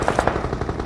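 Rapid automatic gunfire in the video game PUBG Mobile during a scrim match, a quick burst of several close, punchy shots in under a second.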